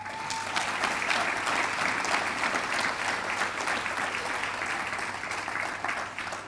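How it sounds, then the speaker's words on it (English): An audience at a university sports hall of fame ceremony gives a round of applause, a dense, sustained roar of many clapping hands that holds loud and even for over six seconds, with no talk over it. "So give Brianna a great round of applause for her career."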